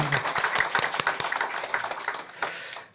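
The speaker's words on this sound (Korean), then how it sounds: "우리 다시 한번 하나님께 영광의 박수 한번 드리겠습니다." A church congregation at a Korean revival meeting claps in a short burst of close, crisp applause that gradually thins out and fades away.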